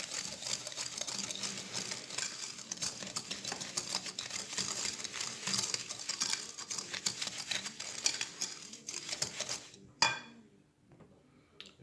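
Softened butter and sugar being stirred in a large bowl for a marble cake batter, a steady quiet scraping and clinking of utensil against the bowl that stops with a final knock near the end.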